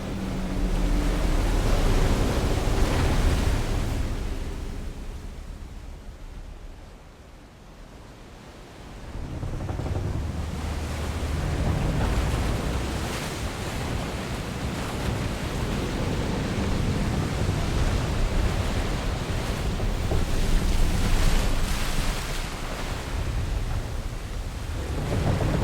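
In Final Fantasy XVI, the sea splits in half with a loud, sustained roar of rushing water and crashing surf. It dips briefly partway through, then surges back, steady and overwhelming, with no voices.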